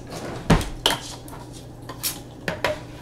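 Metal kitchen utensils clatter and clink as a strainer and a can opener are grabbed, with a few sharp knocks and rattles spread across a short moment and no talking.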